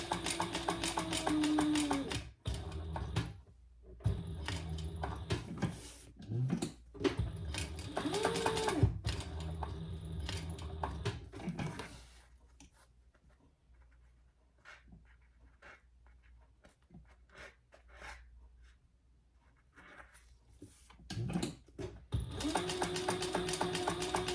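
A home sewing machine stitches a purse at a 2.5 stitch length in bursts of mechanical whirring, with pauses where the thread is pulled and the fabric handled, and quieter handling noise in the middle.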